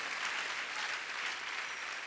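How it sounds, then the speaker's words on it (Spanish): Steady, dense applause fills a church meeting, a congregation clapping together at an even, loud level throughout without any break. "yo creo que se merece un aplauso más fuerte ese Dios"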